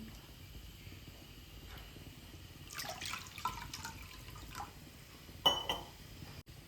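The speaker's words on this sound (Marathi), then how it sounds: "दोन बाऊल पाणी घालून घेणार आहे" Water is poured into flour for kombdi vade dough, a faint, brief splashing trickle in a quiet kitchen with a small clink near the end.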